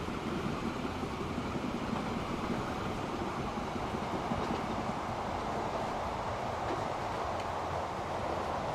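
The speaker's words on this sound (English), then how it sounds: "there's a train with the boxcars" Boxcar freight train in Transport Fever 2 rumbles steadily with a broad, even rolling noise, continuous and moderately loud, with no talk.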